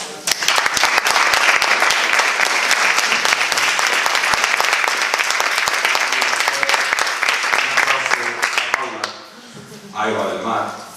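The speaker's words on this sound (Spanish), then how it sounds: "yo pienso que deberíamos darle un aplauso primero a Óscar" An audience at a book presentation applauds Óscar, a loud dense burst of clapping that holds steady for about nine seconds before dropping away as a voice starts talking.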